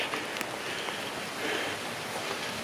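Steady rain falls outdoors under a tree, a soft continuous broadband patter with a few louder drips, fairly close and even throughout with no voices.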